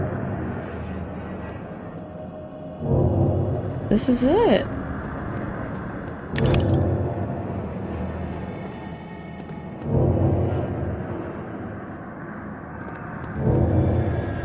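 A train in the video game Alice: Madness Returns gives deep rumbles that swell and fade every few seconds, with a brief higher sweeping tone partway through, while a voice speaks over it.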